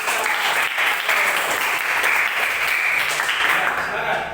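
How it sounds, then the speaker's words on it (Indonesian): A classroom full of students claps steadily for a classmate, a dense, even burst of applause with voices and cheering mixed in throughout. "Tepuk tangan buat orang besar."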